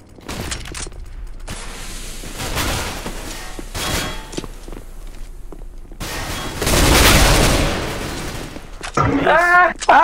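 Gunfire in Counter-Strike: Global Offensive comes as sharp, loud shots and short bursts, with a sustained roaring volley midway and mechanical clicks, while a player talks in Portuguese.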